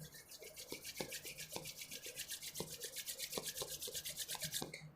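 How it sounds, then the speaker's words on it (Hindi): Both palms rubbed briskly together at the end of a beginner yoga session, a steady rhythmic swishing friction repeated quickly for several seconds, close and alone, with a few faint soft knocks underneath. "नाउ लास्ट में दोनों हाथों को आपस में रब कीजिए अच्छे से।"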